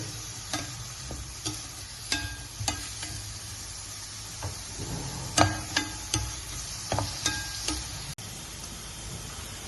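Onion, ginger, garlic, green chili and curry leaves fry in a pan for a Kerala-style okra curd pachadi, a soft steady sizzle under repeated sharp clicks of a spoon stirring against the pan.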